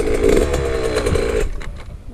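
A Yamaha 65 YZ motocross bike engine revving close by, a buzzy high-pitched two-stroke whine held for over a second and then dropping away suddenly as the throttle is released.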